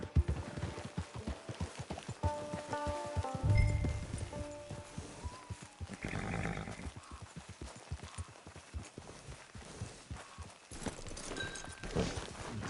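A horse in a video game gallops with rapid, rhythmic hoofbeats that stay close and fairly loud throughout, with a brief snort or whinny partway and no talking.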